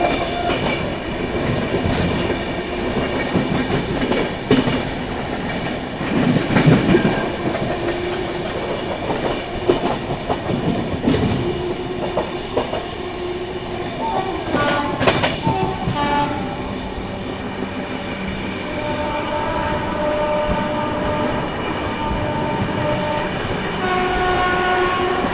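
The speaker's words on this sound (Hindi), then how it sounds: "चेन्नई सेंट्रल वाली गरीब रथ है हज़रत निज़ामुद्दीन चेन्नई सेंट्रल गरीब" Garib Rath Express running from Hazrat Nizamuddin to Chennai Central, heard close and loud as it rushes past with steady rail roar, rhythmic clickety-clack of wheels and a horn sounding partway through.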